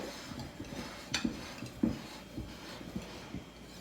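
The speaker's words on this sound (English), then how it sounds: "we need to get our base dry ingredients together first and get those well whisked together so everything's well incorporated" A whisk scrapes and taps against a bowl while gluten-free, grain-free pizza base dry ingredients are mixed, giving faint, irregular clinks and soft stirring strokes close by in a quiet kitchen.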